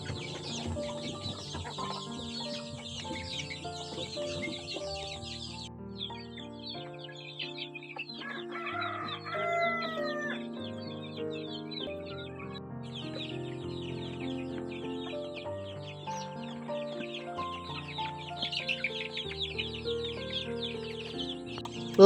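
Pet chickens in a box coop, clucking and chattering steadily over soft background music, with a brief crow-like call partway through.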